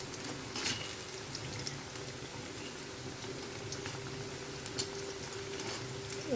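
Onion fritters (peyaji) sizzle in hot oil in a home kitchen for iftar, a dense continuous crackling and bubbling hiss at steady loudness with occasional sharper pops throughout, no talk.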